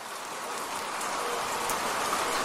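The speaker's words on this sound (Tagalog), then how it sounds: "kasagsagan noon ng buhos ng ulan." Heavy rain pours steadily at midnight in Quezon Province, a dense, unbroken hiss of drops drumming on surfaces, close and constant with no voices.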